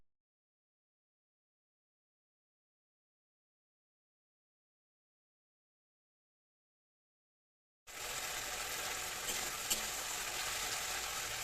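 Spices, chopped capsicum and green peas frying in a pan for a vegetarian cauliflower dish: a steady, soft sizzle begins abruptly after a long silence and continues to the end, with no talk.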